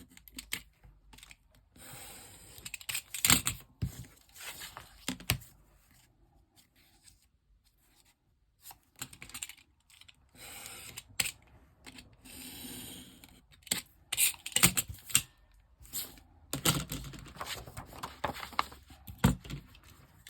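Paper envelope flaps being cut off with scissors, close and dry, in irregular bursts of snipping and rustling separated by quiet pauses.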